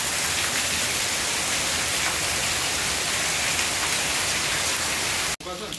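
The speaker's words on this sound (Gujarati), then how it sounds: "વરસાદ એકદમ ધોધમાર વરસાદ પડવાનો ચાલુ થઈ ગયો છે" Heavy rain pours down in a dense, continuous hiss, drumming steadily on surfaces nearby before cutting off abruptly at the end.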